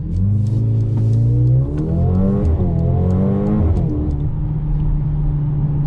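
A 2021 Mercedes-Benz GLB 35 AMG with 4MATIC drive accelerates hard from inside the cabin. The engine note climbs steadily, shifts gear, rises again and then settles into a loud, continuous drone.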